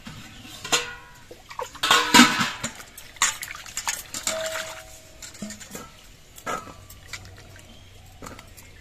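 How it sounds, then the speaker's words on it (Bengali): Cut potatoes being rinsed in water for a pangas fish dish without onion or garlic, with splashing, sloshing and clattering in a bowl in irregular bursts, close and moderately loud, with no speech. "এবার আলুটা ধুয়ে পরিষ্কার করে নিতে হবে।"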